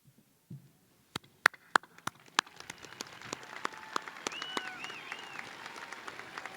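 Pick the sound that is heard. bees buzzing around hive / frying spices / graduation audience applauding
graduation audience applauding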